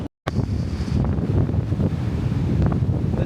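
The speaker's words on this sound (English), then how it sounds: "This is what it sounds like normally. It's really windy." Strong wind batters the microphone on sea cliffs in Orkney, Scotland, a loud continuous rumbling roar with gusty swells and no talking.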